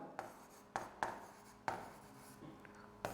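Chalk taps and strokes on a board during a Hindi grammar lesson, several sharp clicks followed by short scratchy scrawls, close and otherwise quiet.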